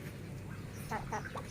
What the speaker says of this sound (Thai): เป็ดน้อย